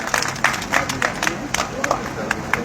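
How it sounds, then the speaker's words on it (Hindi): Crowd at a village gathering clapping for a birthday, scattered loud hand claps over a busy background of murmuring voices and talk, fairly close. "जोरदार तालियां बजा दो इसके नाम।"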